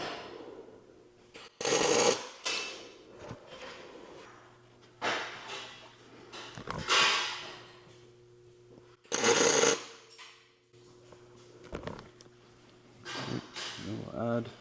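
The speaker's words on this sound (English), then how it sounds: "Then we're going to tack right in these corners first." Tack welds join the corners of an aluminum mini jet boat hull in three short, loud crackling bursts separated by quieter pauses, with a faint steady hum underneath.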